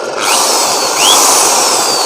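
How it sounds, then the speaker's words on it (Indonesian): A power drill spins a fuel-free generator set, giving a continuous close whirring whine with a slight rise in pitch partway through. "Kita tambah lagi menggunakan bor"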